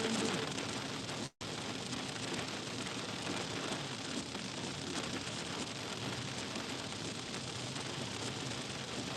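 Steady, dense rain drums on a car while it is being driven, a loud continuous wash of drops across the roof and glass, broken only by one very brief dropout near the start.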